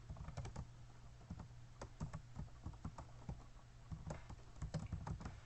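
Keys clatter on a computer keyboard in quick irregular bursts of clicks, close and fairly quiet, over a steady low hum with no talking.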